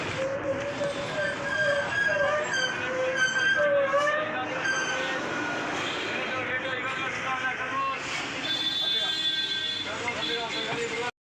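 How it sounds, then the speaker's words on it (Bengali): A Howrah metro train runs with a steady, loud rumble and a thin metallic squeal of wheels on rails, while a crowd murmurs throughout. "এখন মেট্রো করে যাব তাড়াতাড়ি হয়ে যাবে"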